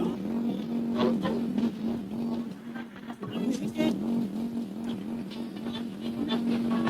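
A car drives in a GTA-style open-world game, its engine holding a steady droning hum with small pitch wobbles, joined by scattered, brief overlapping sounds at moderate level.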